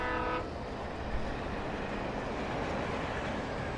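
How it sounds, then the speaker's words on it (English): Train horn sounds briefly at the start, then a train rumbles past in Alan Wake Remastered, a dense steady roar filling the rest. "Oh, a train! We can jump on the train and become a train bum."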